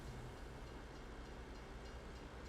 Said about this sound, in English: I may need to move the train.